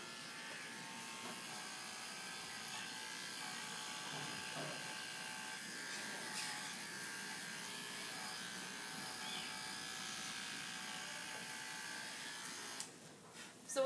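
Electric horse clippers buzz steadily and close up as blades are inverted and combed over a horse's leg to blend the coat, a continuous mechanical hum with a brief rustle near the end.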